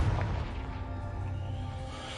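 A Confringo blast spell is cast in Hogwarts Legacy, giving a dense, booming burst with a whooshing rumble that sustains loudly throughout, with no voices.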